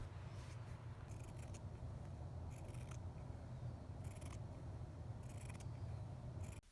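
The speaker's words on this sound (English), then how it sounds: "I ended up cutting out about 25 5-inch by 5-inch squares." Scissors cut fabric squares for a sewn patchwork dress, several quick crisp snips in short clusters over a low steady background hum, close and faint with no talk.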